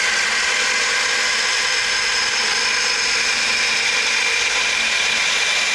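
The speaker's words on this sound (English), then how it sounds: "So I'm going to set the plunge grind, and then I'm going to draw off of the plunge grind." A knife blade is ground on a power grinder to set a plunge grind for a bushcraft knife, giving a loud, continuous, even high-pitched abrasive whir with no break.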